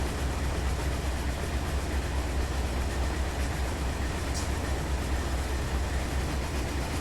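Freight train locomotives under heavy throttle in the Run 8 Train Simulator game, hauling a coal train: a steady, dense low diesel roar and rail rumble holding constant throughout, with no speech.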